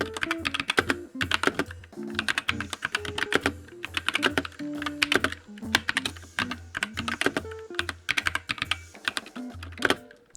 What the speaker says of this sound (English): The switches in it are the Gateron blue switches, which are clicky switches